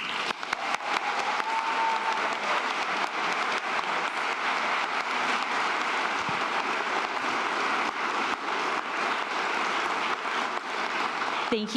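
Sustained, dense applause from a large graduation audience fills the space, steady and loud throughout as Representative Stephanie Murphy is welcomed to the stage at Georgetown.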